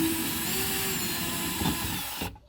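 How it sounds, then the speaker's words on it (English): Cordless driver spinning out a Torx screw from an RV door lock on a Thor Majestic motorhome, a steady close whir lasting about two seconds before stopping abruptly. "See how there's another screw there? Let's take it out."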